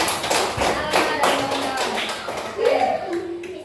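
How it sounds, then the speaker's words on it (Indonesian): Children in a classroom give the teacher a short burst of scattered clapping and tapping, close and uneven, with kids' voices mixed in. "Tepuk tangan untuk gurunya."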